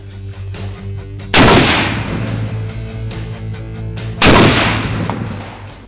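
A .50 caliber ball round is fired twice at a new armor plate, two loud, sharp outdoor blasts a few seconds apart, each followed by a decaying rumble over a low steady hum.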